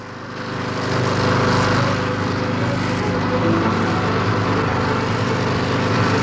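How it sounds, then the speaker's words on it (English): The VA-3 hovercraft's two rear-mounted gas turbine drive engines spin up from quiet into a sustained, droning roar that holds steady to the end. "The other 2 engines, mounted at the rear of the craft, are to drive her forward."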